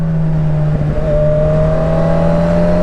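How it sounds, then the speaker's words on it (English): A Honda CB1000R motorcycle engine coming off the throttle and downshifting with a quick shifter: a loud, steady, close engine drone with a brief dip in the middle as the gear changes, then the tone resumes. "quick shifter wise, let off throttle, bring it down"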